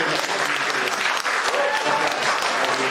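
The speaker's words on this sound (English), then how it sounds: "big round of applause for our friends here" An audience at a Portuguese immigrant week event claps in a dense, sustained round of applause, close and loud throughout.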